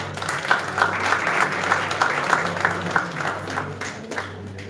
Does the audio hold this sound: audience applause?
yes